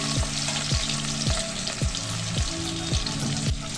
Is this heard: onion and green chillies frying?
yes